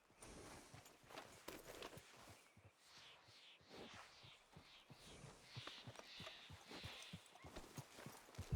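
Steady clip-clop of horse hooves walking at an even pace in the video game Red Dead Redemption 2, close by, with faint voices in the background.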